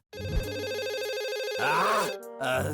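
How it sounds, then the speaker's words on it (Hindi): A cartoon telephone rings with a repeating electronic tone, loud and close, continuing over about three seconds with brief shifts in pitch. "ये सर का फोन होगा"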